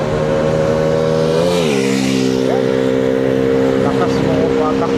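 A vehicle drives fast along a rough, potholed road beside a road-concreting site, its loud engine drone holding steady and shifting pitch as it goes past, close and continuous, with a voice over it.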